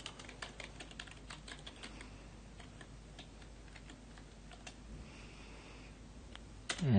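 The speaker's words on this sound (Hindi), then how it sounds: "एंटर की प्रेस करते हैं" Rapid keyboard typing at a computer while building a Microsoft Access database, with dense clicky keystrokes early, then sparser taps, ending in a louder final key press; fairly quiet and close, no talking.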